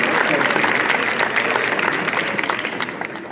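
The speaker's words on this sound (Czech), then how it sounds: "zatleskejte mu, prosím vás, pěkně" Audience applause for docent Galuška, the resident archaeologist, at a Moravian verbuňk dancers' final in Staré Město, a dense, steady clapping that holds loud for a few seconds and then slowly fades.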